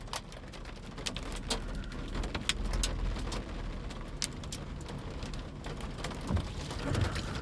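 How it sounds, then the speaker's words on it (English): Tiny pea-sized hail patters steadily on the roof of a vehicle, a dense rattle of small impacts with sharper individual ticks scattered throughout, fairly quiet and continuous. "It's really tiny hail, like pea-sized hail."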